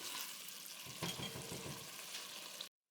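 Mutton frying with spices in a karahi, a steady close sizzle with faint stirring scrapes that runs for almost three seconds, then cuts off abruptly into silence.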